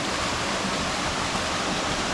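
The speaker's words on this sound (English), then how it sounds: "So double waterfall here at Morang Waterfall and pools" Morang Waterfall, a double waterfall spilling into pools, gives a constant broad rushing roar of falling water, steady and close, with no voices.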